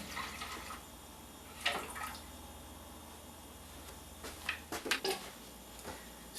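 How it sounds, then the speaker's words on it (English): Water flushing through homebrew beer lines into a rinsed brew bucket, quiet and mostly still with sparse drips and short bursts of splashing near the end. "now we're going to start flushing the lines."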